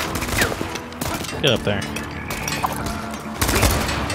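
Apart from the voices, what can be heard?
machine gun fire in Strider video game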